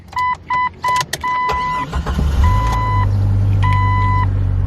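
A 1998 Jeep Cherokee XJ engine cranks and catches, then settles into a low steady idle; a series of electronic chimes beeps repeatedly before and during the start.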